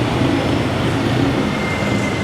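A train passes beside a busy nightlife street in Thailand, giving a steady, loud, broadband rumble that fills the whole clip with no break and no talk over it.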